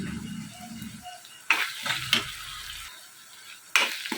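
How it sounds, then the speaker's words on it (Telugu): Onions cook in a pan for a mushroom curry, with a low sizzle and a few sharp scraping and clinking strokes against the pan at intervals. "మూత పెట్టుకుని ఆనియన్స్ అన్నీ బాగా మగ్గనివ్వండి."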